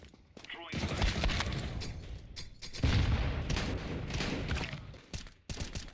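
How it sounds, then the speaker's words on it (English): Loud bursts of gunfire and a flashbang blast in a video game, crackling volleys and booms that come and go over several seconds, with players calling out over the action. "Smoke. Throwing flashbang."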